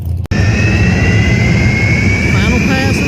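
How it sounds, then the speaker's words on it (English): A jet-powered drag racing car on its final pass at Kentucky Dragway, a loud, steady, close jet roar with a rising whine that fills the clip after a brief cut near the start. "Final pass of the jet car."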